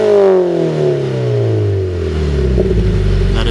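Car fitted with a Nameless Performance axle-back exhaust, blipped to 7,000 RPM; a loud, close engine roar that sweeps down in pitch as the revs fall back toward idle, with no talking.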